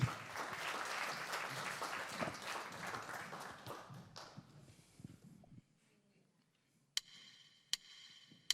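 Audience applause at a live singing festival concert, a dense burst of clapping filling the hall for about five seconds before fading out, followed by a quiet pause and a few sharp isolated ticks.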